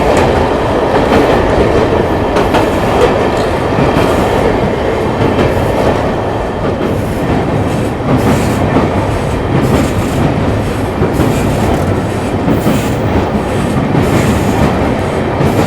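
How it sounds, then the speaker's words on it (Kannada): A train rumbles steadily and loudly across the new Pamban railway bridge, with continuous rolling clatter and rhythmic wheel noise on the track, close by and without voices. "first commercial train Pamban bridge ಮೇಲೆ"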